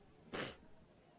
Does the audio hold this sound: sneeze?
yes